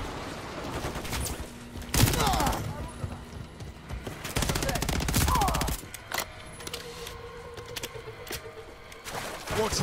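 Gunfire and bursts in the Modern Warfare 3 campaign, loud sharp volleys in clusters between quieter stretches of mechanical clatter, with voices talking over the action.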